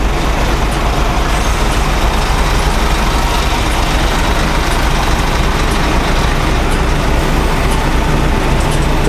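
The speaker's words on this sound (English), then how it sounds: "As you see, we've just met a truck" A truck rumbles past on the road, a loud, continuous heavy engine and road roar heard from inside a moving vehicle.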